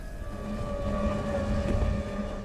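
P1 SuperStock racing powerboats at Hull, their engines a steady, moderately distant drone with a wavering tone, continuous and without voices.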